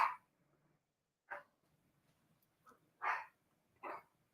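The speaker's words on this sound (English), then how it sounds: "Sorry about the dogs." Dogs giving four faint, separate barks spaced across a quiet room, with short whimper-like yips in between.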